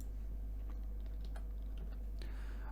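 Quiet, sparse keystrokes on a computer keyboard, a few scattered clicks over a loud, steady low hum, with no talking.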